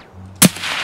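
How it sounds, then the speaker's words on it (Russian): A single sharp gunshot cracks loud and close in Escape from Tarkov, a brief blast that fades into a short ringing tail with no talk. "По мне стрелял"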